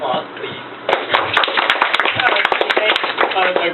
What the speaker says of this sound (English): all, let's get Eva a big round of applause, please.